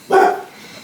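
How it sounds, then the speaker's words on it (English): A single short dog bark, close and sharp, followed by a quiet fading tail. "That's a dog barking."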